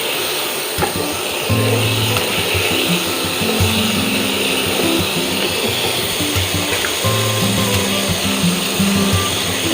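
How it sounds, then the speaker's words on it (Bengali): Water poured into hot, frying mustard paste with spices in a pan, a loud continuous sizzling hiss with a steady rumbling hum that holds for the full stretch, with no talk. "এবার আমি ওর মধ্যে জলটা দিয়ে দেবো।"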